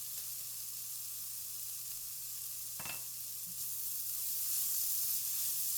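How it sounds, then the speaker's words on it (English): Turkey chili with Tex-Mex sauce and tomato paste being stirred in a pot, a steady soft sizzle with a single faint scrape of the spoon midway, quiet and close. "we're just gonna stir this around till everything gets incorporated"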